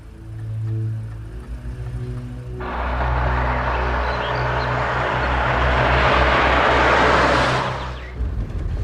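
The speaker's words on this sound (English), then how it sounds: "I think that's your car I hear" A car pulls up outside: a broad engine and tyre rumble rises suddenly, holds steady for about five seconds, then cuts off, with no one speaking.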